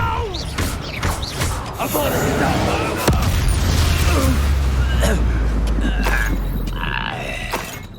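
Clattering, shattering spell blasts and crashes from a Hogwarts Legacy fight burst out repeatedly over a deep rumbling boom, with voices speaking over the din.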